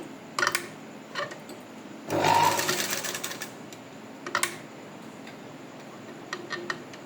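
A sewing machine with a normal presser foot stitches piping along an existing seam, one short loud burst of stitching amid quiet room noise and faint ticks.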